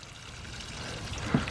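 Water pours steadily onto overgrown tomato plants in a garden, a soft, faint continuous splashing and trickle with a brief louder gush near the end.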